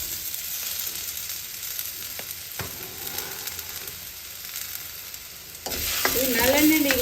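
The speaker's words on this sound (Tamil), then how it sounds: "உருளைக்கிழங்கு முதல்ல ஃப்ரை பண்ணுறோம்." Potatoes fry in oil with a continuous crackling sizzle and stirring. Near the end a louder burst of hissing and scraping rises.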